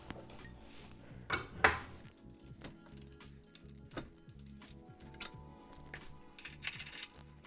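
A 7/16 wrench and steel torsion bars working against a garage door torsion spring, giving sharp metallic clinks and clanks at irregular intervals over a low background hum, close and moderately loud.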